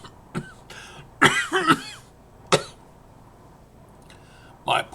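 A man coughs repeatedly in harsh, uneven bursts, several loud hacking fits separated by quieter pauses with some throat-clearing, close and dry.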